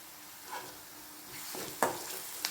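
Ginger garlic paste sautéing with onions in a pan for meal maker gravy, a soft steady sizzle broken by a few spoon scrapes and clinks against the pan, with no talking.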